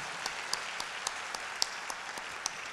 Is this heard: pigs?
no